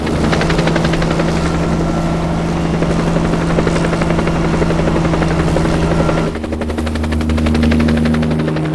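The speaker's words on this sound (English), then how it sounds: "when those blades collectively change angle or pitch, the aircraft rises or descends." A helicopter's rotor blades thrum with a steady, loud, rapid chop and engine drone that stays close and continuous throughout, with a brief dip near the end.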